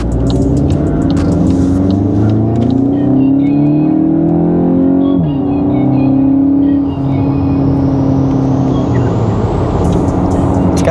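A Volkswagen MK8 GTI fitted with an APR air intake driving, its engine droning loudly and steadily, rising through the revs and shifting gear midway, heard from inside the car with a windy rush.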